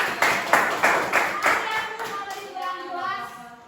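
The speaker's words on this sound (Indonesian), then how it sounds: "Tepuk tangan buat kelompok satu" Students in a microteaching classroom clap for group one in a short burst of several distinct, fairly close claps that fade out while children's voices carry on.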